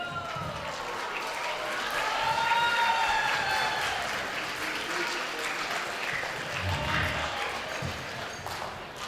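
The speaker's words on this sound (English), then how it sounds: "let's give Dinesh Joshi a big, big round of applause" Wedding guests at an Indian wedding applaud after the father of the bride's speech, a steady roomful of clapping that swells around the middle and holds, with faint cheers and voices mixed in.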